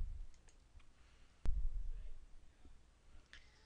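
A single sharp computer mouse click lands partway through, close and crisp, with a faint second click later and low room hum around it; no one speaks.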